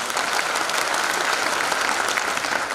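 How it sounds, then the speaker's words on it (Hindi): Steady, loud applause from an audience fills the whole short stretch with dense, even clapping and no pauses. "तालियां।"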